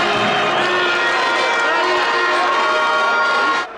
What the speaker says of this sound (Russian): Болельщики на трибунах восторженно ликуют.